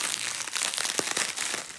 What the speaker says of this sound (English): So trying to cut through all the bubble wrap.